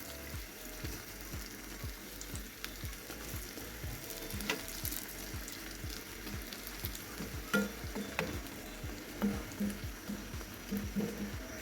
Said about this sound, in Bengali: বানিয়ে নিচ্ছি পেঁয়াজও, বট ভাজা হয়ে গেল।